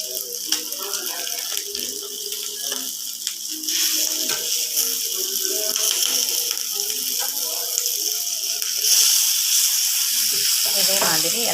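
Fish fries in a pan with a steady, close sizzling hiss, broken by scraping and clattering as the pieces are turned over, and the sizzle grows a little louder after the flip.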